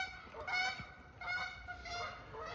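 Several geese honk in repeated calls, moderately distant and fairly faint, with no talking.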